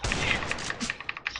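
Sniper gunfire in the mobile battle-royale game Free Fire, a rapid string of sharp, bright cracks and clicks over about a second and a half, close and fairly loud, no talking.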